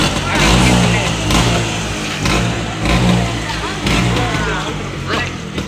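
A 1982 Vespa P150X vintage 150 scooter engine revs up and down in several surges, close and fairly loud, while someone talks over it.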